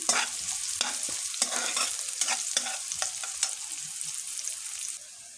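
Onion frying in a pan gives a constant close sizzle, broken by repeated scraping stirs of a spoon, before the hiss drops slightly near the end.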